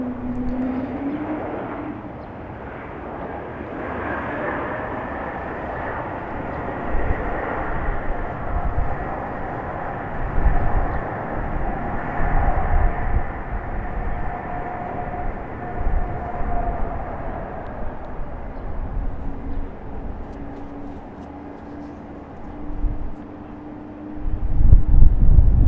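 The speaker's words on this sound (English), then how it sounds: "As you can hear, Air France starting up." Air France airliner engines spooling up at Raleigh-Durham International Airport, a steady distant rumble with a rising whine that swells and fades over a long stretch, heard alone outdoors.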